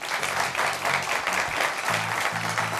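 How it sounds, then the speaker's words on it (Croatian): An audience in Mostar applauds its guests at the end of a televised forum debate, a dense, even wash of clapping that carries on over a low hum of music. "Poštovani Mostarci, aplauz za sve naše goste."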